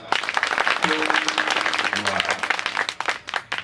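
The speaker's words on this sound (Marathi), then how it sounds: "त्यांनी एकदा जोरदार टाळी वाजवा." Loud, continuous clapping from an audience at a Marathi kirtan saptah gathering, dense and sustained for several seconds with crowd noise mixed in.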